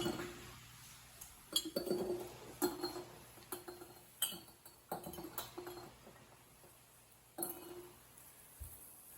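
Glass jars clink and knock together in a kitchen while garlic cloves are dropped in for dill pickles, giving a string of sharp, bright taps at irregular intervals, moderately close, with a quiet background.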